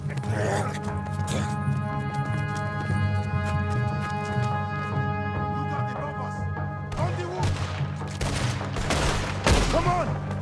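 Cannon blasts and rapid gunfire during a chaotic battle escape in the video game Red Dead Redemption 2, with dense overlapping shots and booms, loud and continuous, mixed with shouted voices and game music throughout.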